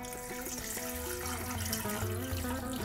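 Water runs steadily from a tap into a cooking pot holding chopped vegetables, salt, peppercorns and bay leaves for a spareribs broth, a continuous close splashing pour.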